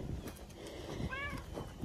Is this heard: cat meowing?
yes